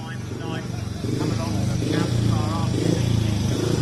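Speedway motorcycles idle and rev in the pits at Poole before a Championship meeting against Edinburgh, a steady, close engine drone that swells slightly midway, with voices mixed in.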